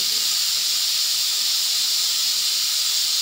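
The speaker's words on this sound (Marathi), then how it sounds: "एक मिनिट, मी कुकर जरा म्हणजे गॅस बंद करून येते." A pressure cooker of tomato and rice on a gas stove lets out a loud, steady, high steam hiss that runs unbroken throughout, with no voices.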